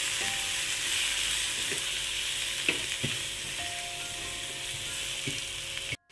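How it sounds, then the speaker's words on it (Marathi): Potato and grape vegetable being stirred and sautéed in a hot pan, a steady sizzle of frying throughout with occasional scrapes and taps of the spoon against the pan. "आता चांगलं हलवून घ्यायचं परतून घ्यायचं"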